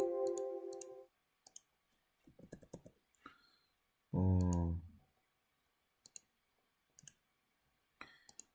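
Sharp clicks on a computer keyboard and mouse, including an Enter keypress, while drafting an AutoCAD polygon, scattered single taps with gaps between them, alongside brief louder software tones.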